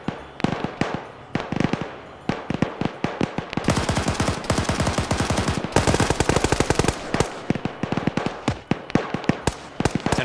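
Sustained video game firefight with dense, rapid gunfire: bursts of automatic fire and single shots crackling close and loud for the whole stretch, with no talking.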